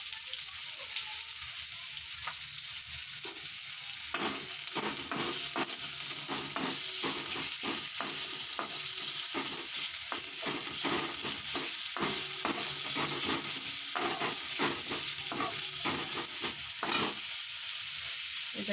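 Chopped onion frying in a pan, a steady bright sizzle with repeated scraping stirs at an irregular rhythm, close and fairly loud, with no voices over it.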